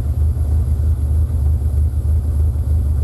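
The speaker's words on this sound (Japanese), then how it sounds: "一応アイドリングする回転ではある。" A Toyota AE86 engine fitted with individual quad throttle bodies idles steadily with a low, running-rich rumble, close and continuous with no talking.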